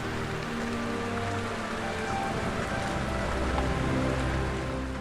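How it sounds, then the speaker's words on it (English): Heavy rain pours down steadily over a Kéköldi forest at night, a dense, even hiss of drops hitting foliage and ground with no voices. "A good couple of hours of downpour like this is key to having an excellent night survey."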